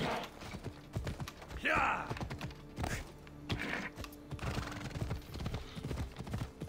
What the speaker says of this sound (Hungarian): Only the strong can reach this position and ride Abraxas, the immortal horse.